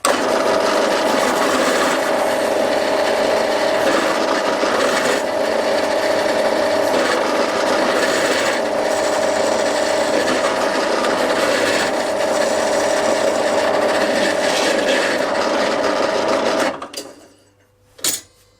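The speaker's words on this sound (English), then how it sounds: "Drill the hole." A power drill whirs steadily as it bores a hole through knife handle scales for about seventeen seconds, then stops abruptly, leaving near silence with a couple of small knocks.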